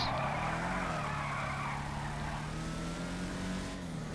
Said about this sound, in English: let's see how this thing drifts